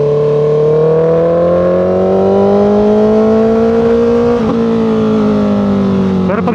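A 2025 Honda CBR650R four-cylinder motorcycle idles loud and close after a cold start, its steady engine drone slowly rising in pitch as it warms, with a couple of brief pops near the end.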